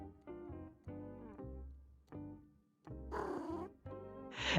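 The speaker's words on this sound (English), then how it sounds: "I have a cat!" A cat in the JudgeSim video game makes purring and meowing sounds, a series of tonal bursts over about four seconds with a louder, rougher stretch near the end and no talking.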